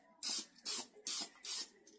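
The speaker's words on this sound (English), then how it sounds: "So I have nonstick olive oil." Four short bursts of nonstick olive oil cooking spray, each about a third of a second, are sprayed onto a Ninja Foodi pan in a steady rhythm, with crisp and close hissing and near silence between them.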